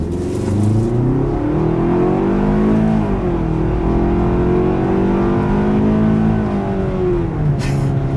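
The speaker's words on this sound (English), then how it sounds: "Let's put the acceleration here to the test, and let's see how quickly we can get our new Hyundai Tucson here up to speed." A 2026 Hyundai Tucson in sport driving mode accelerates hard down a straightaway, its engine note climbing and dipping through gear changes, heard loud and steady from inside the car.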